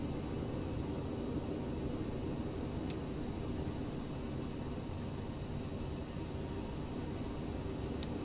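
A CRJ-700 jet airliner in Microsoft Flight Simulator is pushed back manually, giving a steady, even engine whine and broadband hiss with no change in level, plus a couple of faint ticks, and no voices.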